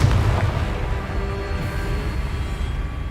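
Confringo blasting spells from the Hogwarts Legacy video game explode in quick succession, with dense booming, crackling bursts filling the whole span at a steady, loud level.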